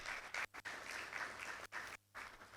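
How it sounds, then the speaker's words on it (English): Audience applause at a conference keynote and welcome session, a dense clapping wash broken by a few short gaps of near-silence, moderately faint and heard alone without talk. "Applause for this kind of impact we're seeing."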